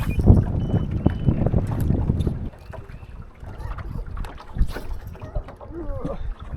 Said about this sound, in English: Man, this wind has just been killer.